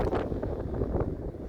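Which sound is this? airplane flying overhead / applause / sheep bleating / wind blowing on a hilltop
wind blowing on a hilltop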